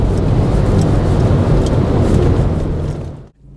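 A Racingline-modified VW Polo GTI with sixteen upgrades accelerates at full throttle, its engine a loud, rough roar close by with buffeting wind, holding steady before dropping away abruptly near the end.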